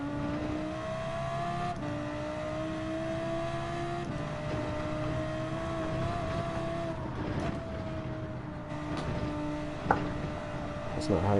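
Race car in Gran Turismo 7 on the Nurburgring, engine droning loud and close with rising revs, upshifts and brief drops in pitch as the car slows, continuous throughout.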